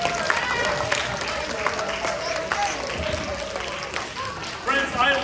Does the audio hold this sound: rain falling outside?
no